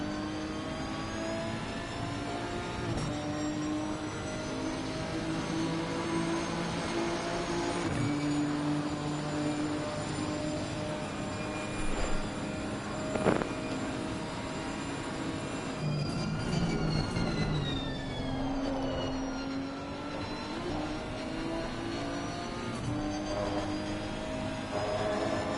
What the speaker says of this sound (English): Let's listen to this beautiful Nissan. She does sound bloody awesome.